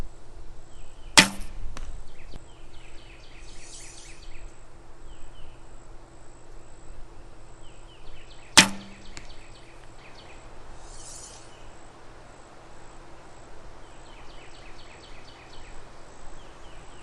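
Two arrows shot from a 27-inch Win&Win ATF-DX barebow recurve, each a sharp, sudden smack about seven seconds apart, outdoors with crickets chirping and faint birdsong in the background.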